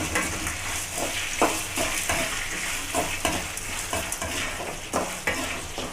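Curry leaves crackle and fry in hot oil in a pan, with steady sizzling and a series of scraping stirs at a regular pace, close and fairly loud, no voices.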